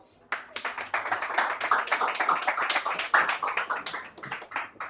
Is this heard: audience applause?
yes